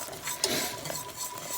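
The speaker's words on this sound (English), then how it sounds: "I want to keep it stirring it, because I don't want it to scorch it" A spoon stirs honey caramel in a pot, a steady low scraping and swishing with a few faint clinks, close and continuous at moderate level with no talking.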